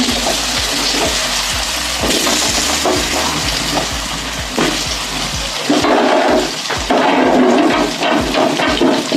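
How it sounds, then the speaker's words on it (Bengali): Potatoes and cauliflower frying in hot oil with spices, a loud dense bubbling sizzle with repeated scraping stirs, surging louder partway through. "আলু আর ফুলকপি দিয়ে দিলাম বন্ধুরা আলু ফুলকপিটা ভেজে নেবো"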